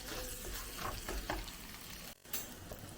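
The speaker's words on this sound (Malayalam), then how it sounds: "ആ മുട്ടയും സവാളയും തക്കാളിയും ഇഞ്ചി വെളുത്തുള്ളി പേസ്റ്റ് എല്ലാം കൂടെ വഴറ്റി വെച്ചിരുന്ന എല്ലാം കൂടെ ചേർത്ത് നമുക്ക്" Egg, onion, tomato and ginger-garlic paste being stirred together in a hot pan for an egg bread masala, a steady close sizzle with soft scraping stir strokes throughout.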